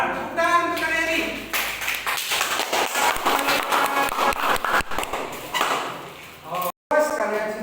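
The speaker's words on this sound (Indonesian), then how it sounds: "Ya, tepuk tangan untuk kalian ini." Students in a classroom clap for their classmates, a dense run of close hand claps lasting several seconds with voices mixed in, briefly cut off near the end before resuming.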